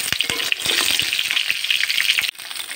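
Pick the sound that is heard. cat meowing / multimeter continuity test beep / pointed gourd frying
pointed gourd frying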